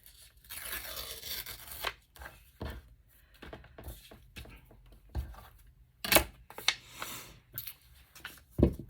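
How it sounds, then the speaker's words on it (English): Scissors cut through junk mail paper for a craft journal, sharp crisp snips coming in irregular bursts, close and fairly quiet with short pauses between cuts. "I'm just going to cut a very little bit more off here at the top."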